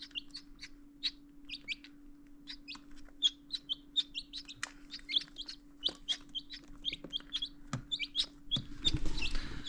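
Young chicks chirping in a brooder on an off-grid homestead, a steady stream of sharp, high peeps from several birds, close and clear over a constant low electrical hum, with a short rustling burst near the end.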